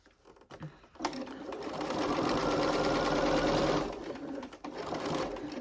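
Sewing machine stitching around the curved seam of a cylinder-shaped fabric pencil case, a steady close whirring run of about three seconds after a few brief clicks, with a short burst again near the end.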